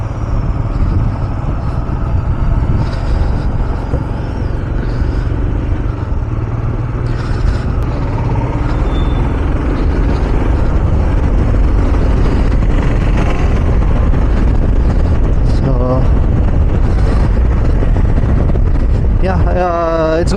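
A car sets off on a road ride from Dimapur, with steady engine and road rumble plus wind buffeting throughout, loud and constant, while people talk over it.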